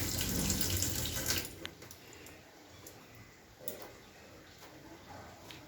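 Mustard oil pours from a container over fish and chopped greens, a brief close liquid splash and trickle at the start that fades into quiet with a few faint ticks.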